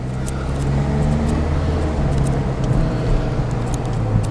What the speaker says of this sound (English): I figured I'd take you a drive around my neighborhood in this little car,